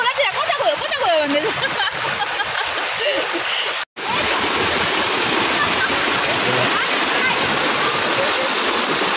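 Flooded Diana river rushing after a night of rain, a loud continuous roar of churning water close by, with people talking over it and a momentary break partway through.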